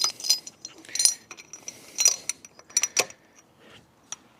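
A socket wrench works on a shock absorber during repair of a Dacia Duster 4x4. Bright metallic ratchet clicks come in short rhythmic bursts, close by, then fade to a final lone click. No voices.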